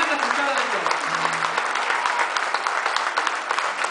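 Theatre audience applause at a concert in Junín, a dense, sustained patter of many hands clapping that continues throughout, with a brief low hum early on.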